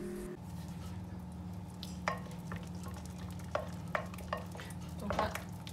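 A spoon stirs a flour and olive oil mixture in a bowl, faint scraping strokes and occasional soft taps over low background hum, close and quiet.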